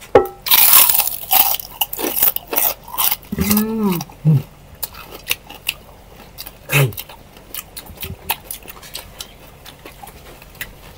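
Crunchy fried chicken is bitten and chewed during a mukbang, loud close crisp crunches in irregular bursts with quieter chewing between, and brief vocal sounds in the middle.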